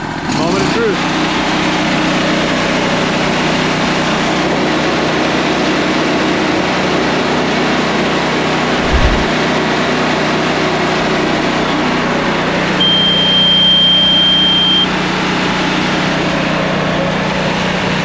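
An Exmark autonomous riding lawn mower's engine runs loudly and steadily throughout, a constant close drone with no clear rise in pitch, while people talk over it.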